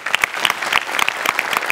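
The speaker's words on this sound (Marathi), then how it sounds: "सो तुझ्याकरता एकदा स्पेशल टाळी" Brisk applause from an audience for a performer on a comedy stage show, a dense patter of many hands clapping at close range throughout with no talk.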